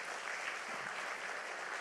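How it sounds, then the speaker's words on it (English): A church congregation claps in praise during an anniversary service, producing a steady, even wash of applause that sounds somewhat distant and soft throughout. "Give God one more best clap of praise."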